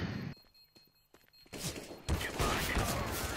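Gunfire from the video game CS:GO, a short burst of shots and impacts closing out the clip, loud and dense after a quieter stretch with faint clicks.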